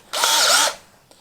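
Cordless battery drill whirring into a wooden pallet, a single short, close burst of about half a second that stops abruptly and leaves a faint tail.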